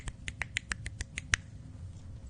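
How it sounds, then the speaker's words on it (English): A quick run of about nine sharp hand claps, fairly quiet and close, evenly spaced over a second and a half, then trailing off into near silence. "I must clap"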